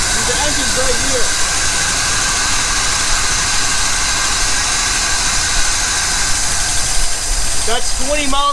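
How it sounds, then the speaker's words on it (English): A van engine runs steadily while the vehicle cruises at low speed around the block, a continuous broadband rumble and hiss close to the microphone with people talking over it. "Wow, the engine's right here."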